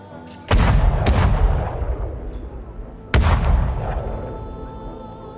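Period artillery cannons fire in a siege of the Spanish wars in Flanders: two heavy, close booms a few seconds apart, each with a long rumbling decay, plus a lighter shot just after the first.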